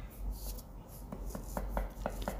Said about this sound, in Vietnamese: Hai trái ớt to thì mình cũng băm nhuyễn ra luôn